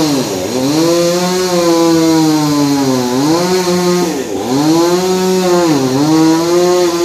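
Chainsaw cutting through a huge, old, partly rotted fallen tree at a temple, a loud continuous engine whine that dips and rises in pitch as the blade bogs down in the wood and then revs back up, with no talk.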